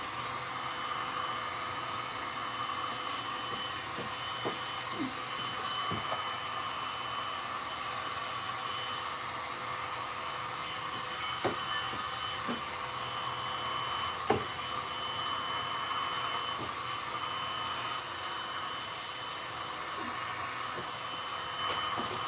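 A heat gun blowing hot air while window tint film is worked onto a 2023 Mazda 3 hatchback, a steady, moderate airy whoosh that runs throughout with occasional faint taps and clicks.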